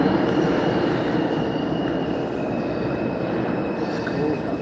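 A New York City subway train rumbles through a station in a steady, loud roar of wheels and carriages, with a faint high squeal above it and no clear speech.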